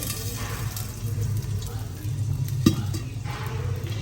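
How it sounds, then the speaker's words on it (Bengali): Frying for a biryani gives a soft, steady sizzle close by, with light stirring scrapes and one sharp clink near the middle, and no one speaking. "এটা শব্দটা আমার এত পছন্দ আমি যখন থেকে এটা ভাজা শিখছি"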